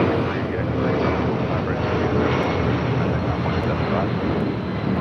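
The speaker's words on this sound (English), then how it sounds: "Next takeoff at Delta Airlines Flight 631 heading to Mexico City in the" A Delta Boeing 757-200 airliner roars steadily on its takeoff roll at LAX, a loud continuous jet rumble with wind noise that holds the same level throughout.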